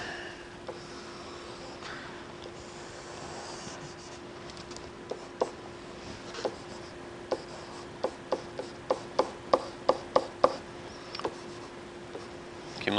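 Chalk or marker on a lecture-hall board while a graph is sketched: faint scratchy rubbing at first, then a run of quiet, rhythmic taps and strokes that quicken toward the end, with no talking.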